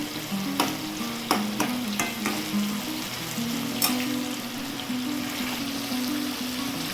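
Mutton curry frying and being stirred in a pan, a steady close sizzle with scraping stir strokes repeating throughout, no talking.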